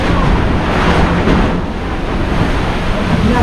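Strong typhoon wind roars during the landfall of Typhoon Odette, a dense, loud, continuous rush with heavy gusting buffeting the microphone and no voices.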